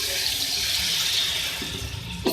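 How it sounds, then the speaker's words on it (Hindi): One cup of water pours into a pot of aloo matar masala pulao, a steady splashing stream lasting about two seconds that ends with a brief clatter. "इसके अंदर मैं पानी ऐड कर रही हूँ 1 कप।"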